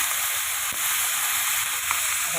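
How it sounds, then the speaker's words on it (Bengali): Beetroot, carrot, beans, cauliflower and potato frying in a pan, a steady close hiss and sizzle throughout with a couple of faint clinks, no talking. "একটু বিট গাজর বিনস একটু ফুলকপি ছিল আলু দিয়ে ভাজি"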